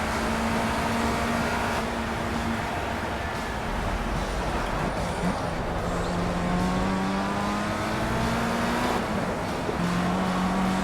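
A race car engine in Project CARS, on the Donington Park circuit in an FR Euro Trophy round, holds a loud, close drone that climbs steadily in pitch as it accelerates, shifting gear and climbing again, with no voices.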